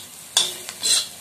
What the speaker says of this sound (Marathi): आणि हा सारखा उलटणीने चाळत राहायचा आहे